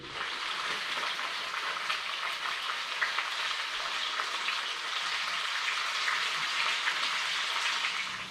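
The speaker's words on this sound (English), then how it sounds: "I'm going to put the potatoes in the grease, the bacon in the oven" Potatoes frying in hot grease, a steady dense sizzle and crackle that carries on unbroken and fairly loud, close by, with no talking.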